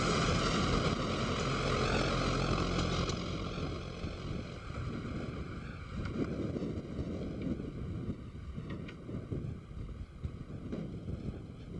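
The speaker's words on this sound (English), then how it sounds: "Barlow diesel electrics negotiate Dungeness Loop one evening in 1999." Barlow diesel-electric miniature locomotives, driven by a diesel generating set in the tender feeding an electric motor, work around Dungeness Loop in 1999 with a loud, steady droning engine that slowly fades a little as they pass.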